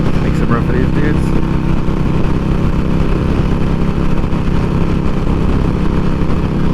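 Harley-Davidson 2020 Iron 883 motorcycle riding on a highway, its steady loud engine drone blended with continuous wind and road rumble throughout, with no clear gear changes.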